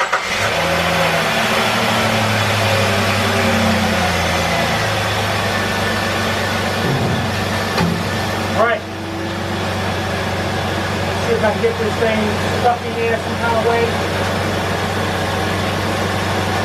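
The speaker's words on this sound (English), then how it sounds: "let's start this vehicle up" A 2003 Jeep Liberty Sport with a failed alternator runs steadily near the microphone, its engine a constant mid-pitched hum with a brief dip partway through, and people talk over it at times.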